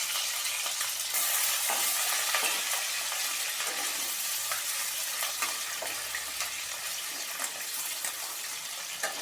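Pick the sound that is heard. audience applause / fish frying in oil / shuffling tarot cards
fish frying in oil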